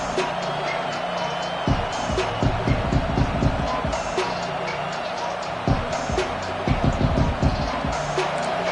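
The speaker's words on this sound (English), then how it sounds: "Listen to this crowd just shaking the girders of this place" A large stadium crowd roars continuously at a Notre Dame football game in a big, echoing space, punctuated by rhythmic stomping or thumping bursts.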